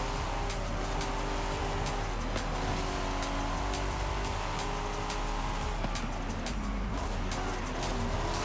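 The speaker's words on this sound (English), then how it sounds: "We're racing a Ferrari right now, side by side." Cars racing side by side in Forza Horizon 5, a Ferrari among them, with a loud sustained engine drone and tire noise filling the whole stretch, the pitch shifting slightly as the cars jostle, a voice faintly present.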